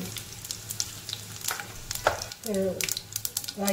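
Mustard seeds splutter and pop in hot oil in a pan with crushed garlic, sharp crackling bursts scattered over a steady sizzle, growing busier toward the end, close and fairly loud.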